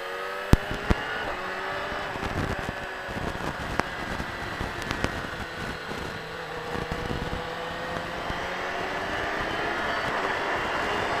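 A car accelerates on a race track after straightening out, its engine droning steadily and rising in pitch, heard continuously from inside or close by with no talk.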